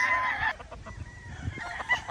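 A rooster crows loudly and close by in the first half-second, then the clip continues with lower rustling farmyard noise.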